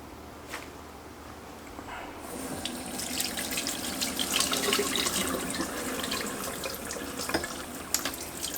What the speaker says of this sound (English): I'm just going to try to rinse most of the gel and everything off.